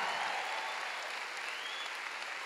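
A congregation at a healing conference church service gives sustained, even applause, a dense wash of many hands clapping at a steady level with no pauses.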